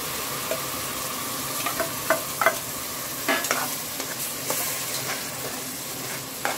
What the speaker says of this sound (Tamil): வெங்காயம் பச்சை வாசனை போகிற அளவுக்கு நல்லா வதங்கட்டும்.